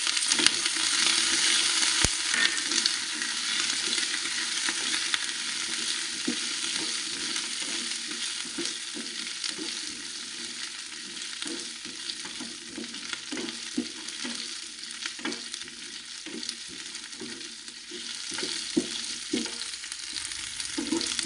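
Whole uncut small shallots fry in hot oil for a tomato curry, giving a loud, dense, continuous sizzle close by. Occasional stirring taps and scrapes sound beneath it.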